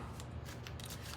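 Tarot cards being shuffled, a short continuous riffling and rustling with soft crisp flicks, close and steady, with no talking.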